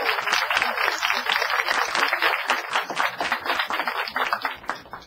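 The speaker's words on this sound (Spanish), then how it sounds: "¡Fuerte aplauso!" A high school group in a television studio audience applauds with steady, brisk clapping from many hands, moderately loud and continuous for about five seconds.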